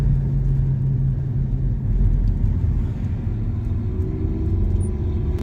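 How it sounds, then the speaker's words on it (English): Diesel trucks on a road, part of a drive along the National Road across Indiana, give off a steady low rumble and engine drone that stays loud and continuous throughout, with no voices. "Noisy diesel trucks."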